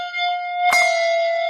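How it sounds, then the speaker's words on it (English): A handbell rings with a long sustained tone, then a sharp knocked strike blends into the ring, bright and close with lingering overtones. "you're blending between a ring and a knock kind of thing, and just trying to energize these clappers to go forward"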